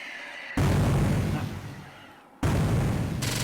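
Grenade blasts in a shooter video game: two loud, sudden booming bursts, the first rolling and fading over about two seconds before a second heavy blast hits and sustains, with no talk.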